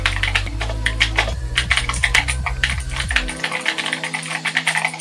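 Close, loud typing on an ieGeek 87-key clicky mechanical keyboard with blue switches, a rapid run of sharp clicking keystrokes over a low hum that drops out partway through.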